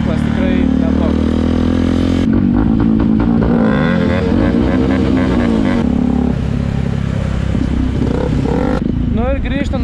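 A Yamaha WR 180 motorcycle accelerates while riding in third or fourth gear, its engine note rising and falling through loud, steady revs with gear changes, close to the microphone and continuous throughout.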